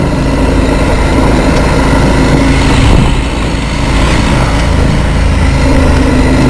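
A KTM 890 motorcycle engine running steadily while riding a rocky trail in Box Elder Canyon, a loud, continuous droning hum with a brief surge near the middle and no voices.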